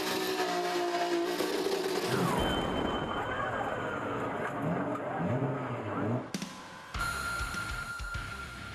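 A 1,200 brake horsepower Nissan GTR drift car screams through a competition run, its engine note sweeping up and down with revving, then a brief cut and sharp tire-squealing bursts, loud and close.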